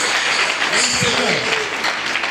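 A church congregation at an Easter service applauding the Lord, a loud, sustained wash of clapping with voices calling out over it.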